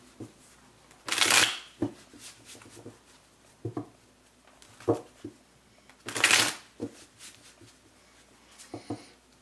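A deck of tarot cards is shuffled twice in loud riffling bursts, with soft handling clicks and taps in between.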